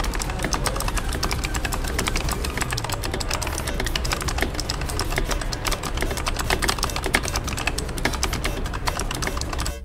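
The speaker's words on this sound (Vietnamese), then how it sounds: "Chúng ta hãy cùng lắng nghe tiếng clicky của loại switch này nhé." Clicky optical key switches on a Razer Huntsman Elite keyboard rattle in a fast, continuous stream of sharp, close keystrokes that keep going steadily for the whole stretch, with no voice over them.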